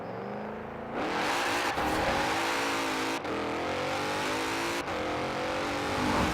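A Mercedes-AMG GT 63 S 4MATIC+ launches hard in Forza Horizon 4, its engine revving loud and steady through quick upshifts, with brief cuts between gears and tire wheelspin under the roar.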